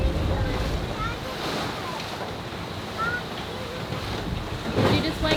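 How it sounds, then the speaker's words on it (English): Strong wind of about 16 to 22 knots roars steadily over a boat in rough seas off Japan, with constant microphone buffeting and wash, and faint voices in the background. "Were we expecting this much wind today?"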